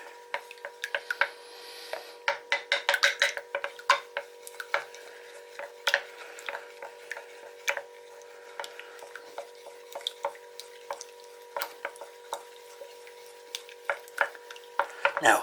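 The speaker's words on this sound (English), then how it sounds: "Now we stir the eggs up." Two eggs being beaten in a bowl as a coating for pork chops: rapid, irregular taps and clicks of a utensil against the bowl, close and fairly quiet, continuing over a faint steady hum with no talking.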